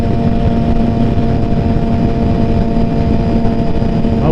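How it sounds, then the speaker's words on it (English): Motorcycles riding in a group on a freeway during bike night, a loud, continuous engine roar with wind rush that holds steady throughout, close and dense with no pauses. "there's a lot of bikes out right now"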